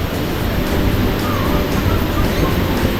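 Roaring water in Meghalaya during the June rains, swollen far beyond its usual flow, makes a dense, continuous rushing roar that stays loud and steady throughout with no pauses or voices.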